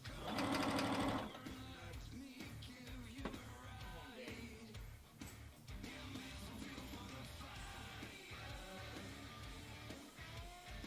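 Sewing machine backstitching over mask elastic, a quick whirring run of needle strokes, loudest in a short burst at the start, then a steady rapid chatter continuing close by.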